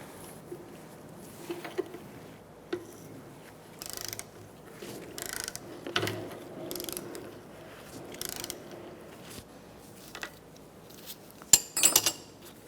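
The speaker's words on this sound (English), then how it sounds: "I'm going to use these tools so I can hold this still as I take the nut off" A wrench and special socket work a shock absorber top nut on a 2013-2022 Buick Encore, giving faint, scattered metallic clicks and ratcheting taps with quiet pauses between them.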